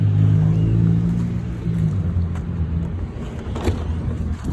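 Low steady hum inside a Tesla Model 3 Performance electric car, a soft continuous rumble that fades slightly, with a few faint clicks and no talking.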